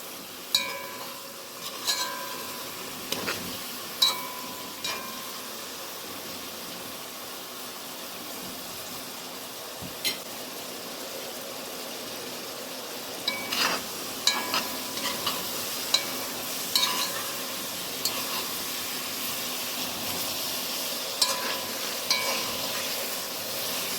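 Meat frying in a pan for a beef and potato zharkoe gives a steady soft sizzle, with scattered clinks and scrapes as it is stirred.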